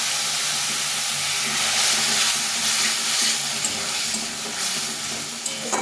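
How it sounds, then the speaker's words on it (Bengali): Soybean gravy with a little added water sautéing in a bowl, giving a steady loud sizzle and steamy hiss with soft stirring scrapes throughout, no voices. "এই বাটিতে একটু জল দিয়ে কষিয়ে নিতে হবে"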